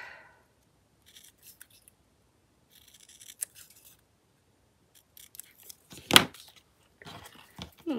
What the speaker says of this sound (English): Man, I wish I could cut in a straight line, right?